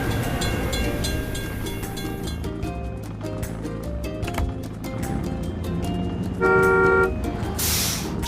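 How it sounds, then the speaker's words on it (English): A cartoonish train rolls past a closed crossing gate in a kids' construction video game, with rumbling wheels, a clear horn toot near the end and a short burst of noise as it clears, over background game music. "We have to wait for the train to pass."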